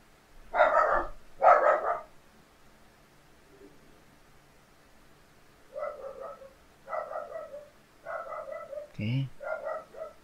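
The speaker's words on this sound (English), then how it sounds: "My dog is very noisy, guys." A household dog barks loudly and close by indoors: two sharp barks first, then after a quiet pause a rapid run of five or six more.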